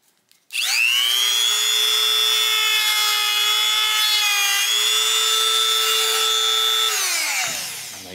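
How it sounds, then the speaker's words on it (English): A power sander with a sharp sanding disc spins up and grinds steadily with a loud, high whining tone for several seconds, then winds down near the end. "Nice sharp sanding disc."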